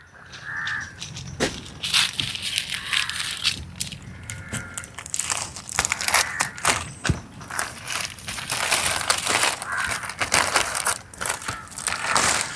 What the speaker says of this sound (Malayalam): അത് നമുക്ക് പൊട്ടിച്ചെടുക്കാം